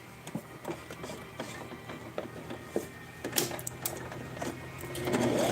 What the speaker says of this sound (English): So, we're going to sew the bottom now.